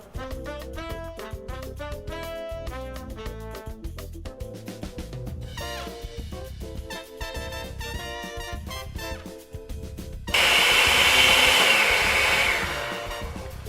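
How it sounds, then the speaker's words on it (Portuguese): A blender chops walnuts, basil and garlic, starting abruptly after background music and running as a loud, steady whirring roar for a few seconds before easing off slightly. "Então, André, eu não gosto de bater muito porque eu gosto daqueles pedacinhos das nozes, do manjericão, até do alho"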